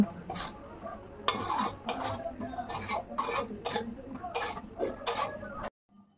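A spoon stirs and scrapes a spice mix of coriander powder, Kashmiri chilli powder, turmeric, salt and sugar in a pan. About eight sharp clattering strokes come at an irregular rhythm, close and fairly loud, then everything drops to near silence at the end.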